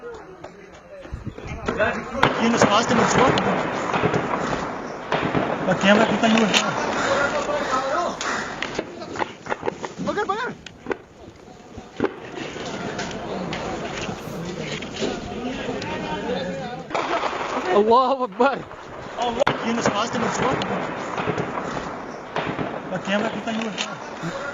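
Gunfire in a gunfight with militants: sharp cracks and bursts go off repeatedly at a distance, mixed with shouting voices and loud chatter throughout.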